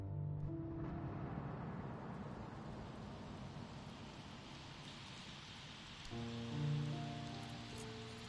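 Steady rain falling in the video game Sherlock Holmes Chapter One, a soft continuous patter with faint musical tones layered over it.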